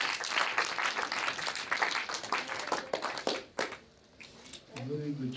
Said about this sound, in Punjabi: ਜਨਾਬ ਬਹੁਤ ਸਾਰੀਆਂ ਤਾੜੀਆਂ ਅਦਲ ਬਿਨ ਅਸਲੋ